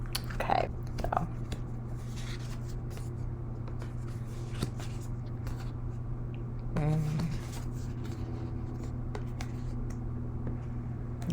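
Cards riffling and sliding together in a few quick bursts, close by, with soft handling noises and a low steady hum underneath.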